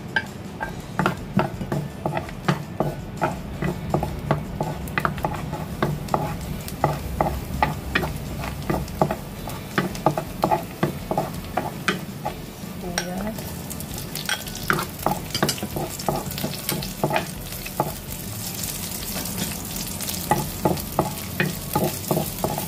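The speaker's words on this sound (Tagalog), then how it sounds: "Igisa na ang bawang." Garlic sautés in hot oil in a pan, a steady sizzle broken by rhythmic clacks and scrapes of a spatula stirring against the pan, close and continuous throughout.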